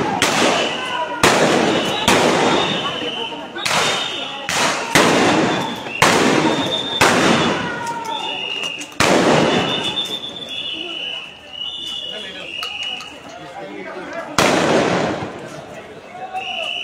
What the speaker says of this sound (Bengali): ফায়ার চলছে।